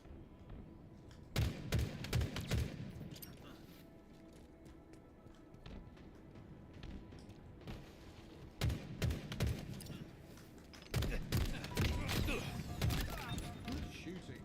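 Gunfire in a Halo game comes in loud, rapid bursts of repeated shots separated by quieter stretches of background game noise.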